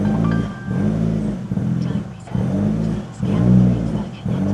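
A Toyota 86 engine idling roughly after a cold start, then revving in repeated swelling pulses, loud and close with no talk.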